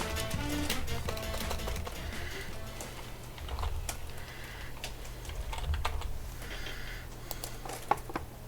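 Steady typing on a computer keyboard, with rapid irregular key clicks continuing throughout over a low background hum, the keys sounding close and fairly quiet.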